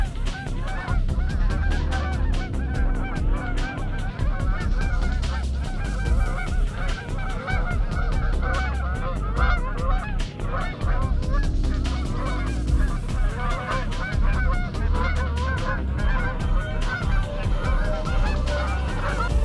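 A large flock of geese flies overhead from a nearby lake, their loud, dense honking continuous and overlapping throughout with no voices.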